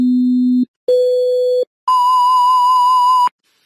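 Three pure electronic tones sound one after another, each higher and longer than the last, separated by brief silences.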